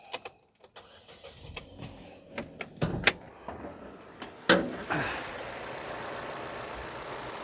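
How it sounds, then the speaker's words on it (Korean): A few clunks and clicks, then a used Chevrolet Lacetti Premiere car engine cranks and catches, settling into a steady idle hum. "시동을 걸고 엔진을 보여드릴게요"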